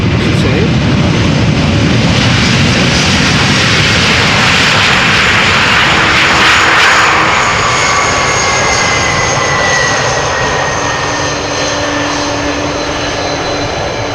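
An Airbus A330 airliner lands at Amsterdam Schiphol Airport with a loud, continuous jet-engine roar close by that slowly eases in strength as it passes.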